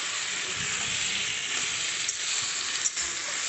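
Taro leaves cooking with a hilsa fish head sizzle steadily in a pan as they are stirred, a constant soft frying hiss with no voices.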